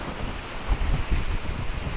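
Sea waves washing up on a shore, a steady broadband rush with low surges building and breaking near the microphone, mixed with wind buffeting, no talk.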